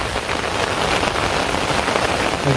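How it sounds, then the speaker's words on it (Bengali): Heavy rain pours steadily in a village during the rainy season, a dense, continuous close hiss of drops drumming on surfaces with no voices. "জোরে আরো অনেক জোরে বৃষ্টি নামতেছে"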